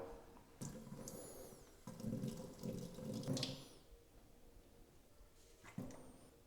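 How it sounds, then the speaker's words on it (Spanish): Water from a tap splashes into the water tank of a Xiaomi Vacuum 2 robot vacuum, running in several short bursts with gurgling and trickling between, close and faint. "ponerlo ya justo debajo del grifo y llenarlo"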